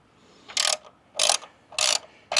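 A pair of 13mm wrenches tightens an LED cube light mount on a Jeep Gladiator or JL grab handle, giving three quick bright ratcheting bursts with short pauses between them, close up and with no talking.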